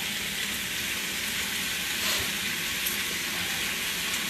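Thin julienned onion strips fry in a wok, giving a dense, even sizzle that stays loud and unbroken throughout with no talking.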